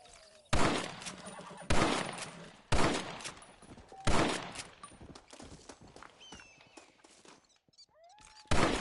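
Gunshots ring out in a Red Dead Redemption shooting contest: a series of loud, sharp reports spaced about a second apart, each trailing into a brief echo, with smaller shots and faint whinnies scattered between.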